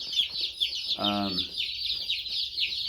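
Many baby chicks peep constantly in a high, busy chorus, with a brief lower harmonic call rising over them.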